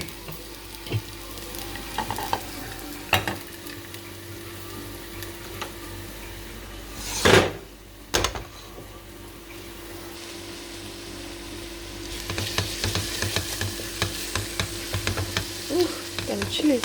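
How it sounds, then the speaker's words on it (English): Fried chilies go into a sizzling masala chicken dish. A steady frying hiss runs throughout, with sharp clatters and a loud scrape near the middle and livelier stirring toward the end. No voices. "When your chilies are done, you're going to add them to the main dish."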